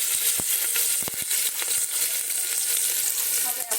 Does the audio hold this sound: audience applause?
no